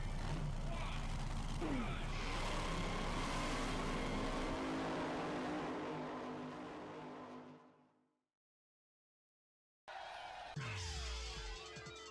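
Race car engines roar at the start of a race in San Francisco Rush 2049, a loud sustained engine drone that fades out into brief silence before game sounds and engines resume.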